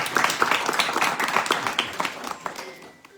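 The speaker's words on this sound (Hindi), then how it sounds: "जो राधा जी के दल वाला वो ताली बजाएगा।" An audience at a devotional house program in Jaipur claps in a dense, continuous, fairly loud patter of many hands that fades slightly toward the end.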